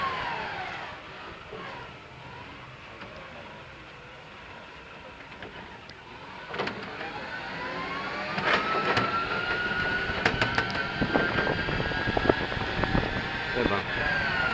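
A BYD electric forklift drives a long straight at top speed, its electric motor whine climbing steadily in pitch, with rattles and bumps from the chassis, and a voice talking over it.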